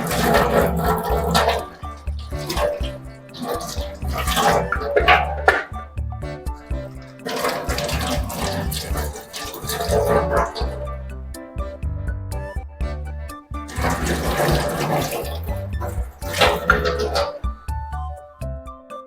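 Vegetables, onions among them, are rinsed under running water from a tap, in repeated splashing bursts separated by short quiet gaps, close and fairly loud.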